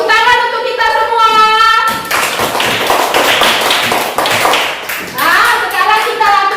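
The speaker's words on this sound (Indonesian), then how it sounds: "Tepuk tangan untuk kita semua." Classroom students clapping together in a burst of applause between stretches of talk, with a teacher's voice and children's voices heard before and after the loud, dense clapping.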